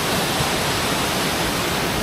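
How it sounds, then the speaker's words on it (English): Waterfall at Holme Force in the Lake District, a steady close rush of falling water, loud and unbroken with no other sounds. "I'm loving how the waterfall's coming down one side and snaking off down the other side of the image."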